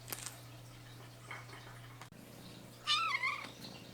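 A single cat meows once, short and close, over a quiet background hum with a few faint soft clicks.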